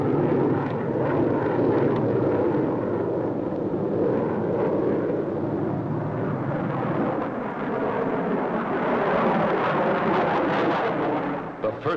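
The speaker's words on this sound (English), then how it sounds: "Turbojet engines used in assisting takeoffs of our giant bombers are studied." Turbojet engines assisting the takeoff of giant bombers give a loud, continuous roar that holds steady throughout and swells slightly toward the end, with no voices over it.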